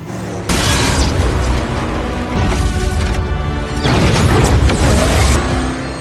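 A Rome explosion scene from a Fast and Furious film erupts in loud, dense blasts and crashing debris, with rolling booms layered under music-like rumble throughout.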